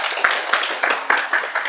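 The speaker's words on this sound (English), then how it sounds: "Give yourselves a round of applause." Applause from an improv theater audience, a dense wash of hands clapping with small bursts of louder claps rising and falling across the short stretch.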